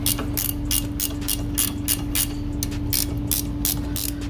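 A ratchet cranks off brake caliper bracket bolts on a 2015 Citroën C1 during a front brake pad and disc change, giving loud, close, rapid bursts of clicking in a steady back-and-forth rhythm.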